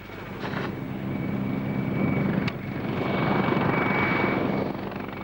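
A Mi-24 Hind attack helicopter flies close by, its rotor and turbine making a loud, continuous, broadband roar that holds steady throughout.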